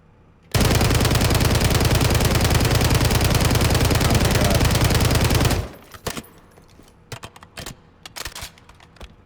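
A weapon fires a long unbroken automatic burst, about five seconds of rapid loud gunfire in a video game firing range, followed by a scatter of scattered clicks and small taps.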